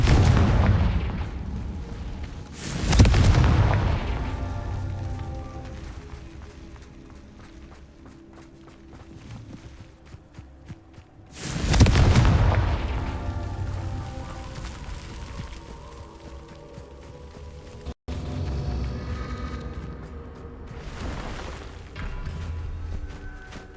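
Fire spell blasts in Hogwarts Legacy, two heavy booming explosions several seconds apart with rumbling tails, amid game footsteps and ambient sound.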